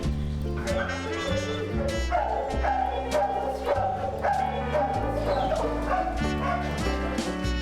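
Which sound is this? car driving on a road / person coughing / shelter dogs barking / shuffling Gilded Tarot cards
shelter dogs barking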